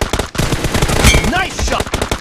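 Rapid bursts of automatic gunfire from PUBG Mobile during a team match, loud and close, with sharp repeated shots running nearly continuously under faint game chatter.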